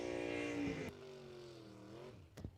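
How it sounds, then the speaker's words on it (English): Race Tech Dragster drag racing car at a Mutt and Jeff Promotions race, its engine roaring loudly and steadily up close with a shifting pitch, then a sharp burst near the end. "476, the Race Tech Dragster."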